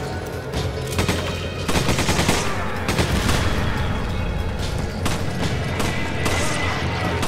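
Loud, close gunfire in the co-op video game Resident Evil 5, with repeated shots and bursts firing at enemies, heavy booms mixed in, continuing steadily throughout.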